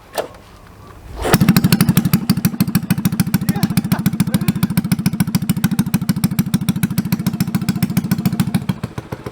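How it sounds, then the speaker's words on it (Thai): A Honda Wave 100 motorcycle with no exhaust tip cranks and catches, then idles loudly with a fast, rough, rattling putter that stays steady and close. "เราสตาร์ทกันแบบไม่มีปลายท่อนะนี่ ดูเสียงมันจะลั่นขนาดไหนนะคุณผู้ชม"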